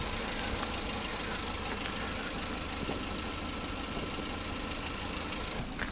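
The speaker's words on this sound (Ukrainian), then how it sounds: "як чуєте, дуже-дуже тихо працює двигун" A Citroen C-Elysee engine idles smoothly and quietly with a low, even hum and faint light rattling, steady throughout.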